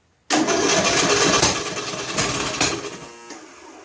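A John Deere L100 lawn tractor engine, started on choke, catches abruptly and runs with a loud, rough, uneven chugging that eases slightly toward the end.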